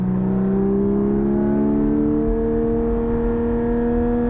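A Porsche 718 GT4 with a race exhaust revs steadily upward under load through 4,000 to 7,000 RPM, its raspy exhaust note climbing in pitch, loud and close with no talking.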